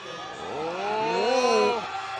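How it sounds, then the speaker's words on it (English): Teammates cheer on a powerlifter at the 2019 World Classic Powerlifting Championships, their shouting voices swelling to a peak and then easing off, close and loud over a faint background. "Here his teammates cheering him on."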